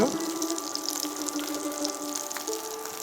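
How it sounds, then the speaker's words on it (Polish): Water pours into a hot pan of frying gyoza, a sharp continuous hiss and sizzle with gurgling splashes, close and steady throughout. "Więc teraz podlewam je na około troszkę więcej niż centymetr wodą."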